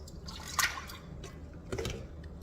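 Ice water trickles and drips into pastry dough in short splashes, a couple of brief pours close up with quiet pauses between.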